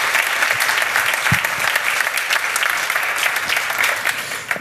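Audience applause at a startup pitch event for Laurent Deron and his project, a full, steady round of clapping from a crowd, fairly close and loud.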